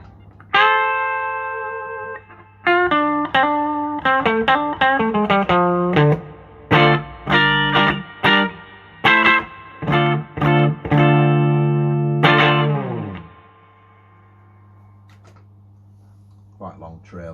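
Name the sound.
electric guitar through reverb effect pedal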